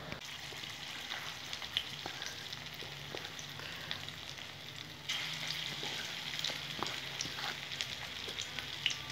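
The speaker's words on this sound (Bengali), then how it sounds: "হাই হিটে আমি বড়াগুলো লাল লাল করে ভেজে নেব।" Prawn and ground-lentil fritters with onion deep-fry on high heat, giving a continuous, fairly quiet bubbling hiss that swells slightly partway through, with small crackles scattered throughout.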